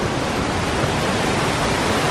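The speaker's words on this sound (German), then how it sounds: "Sehr beeindruckend ist die gewaltige Brandung, die sich in breiter Front an den ausgewaschenen 100 Meter hohen Felsen bricht." Heavy surf breaking in a broad front against 100-metre-high, wave-worn cliffs at Uluwatu on Bali, a dense, continuous roar of water close and loud with no pauses.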